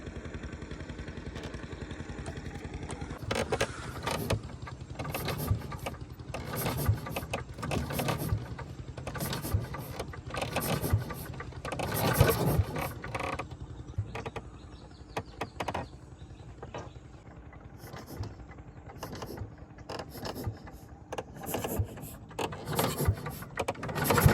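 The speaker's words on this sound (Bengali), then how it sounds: "এই দড়ি দিয়ে এখন মেশিন স্টার্ট দেওয়ার চেষ্টা করব" Small outboard boat engine on a fishing trip, started by hand with a rope because the crank handle was forgotten: repeated irregular mechanical rattling and clattering pulls close by, with a sputtering motor noise that comes and goes.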